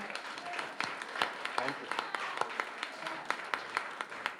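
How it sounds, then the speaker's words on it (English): Applause at a Thornton Township meeting, scattered sharp claps from the audience spread across the room, with a voice speaking briefly over them. "if we could just give them a round of applause, and all of them."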